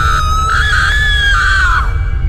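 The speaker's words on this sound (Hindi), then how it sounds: "तभी ममता के सामने से किसी चुड़ैल के चिल्लाने की आवाज आती है।" A cartoon witch lets out one sustained, shrill scream, loud and close, holding a high wavering pitch for about two seconds before sliding down and cutting off.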